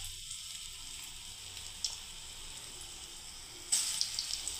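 Fritters (bora) for papaya dalna dropped into hot oil, a soft continuous sizzle with a brief crackle near the middle and a louder burst of bubbling hiss toward the end.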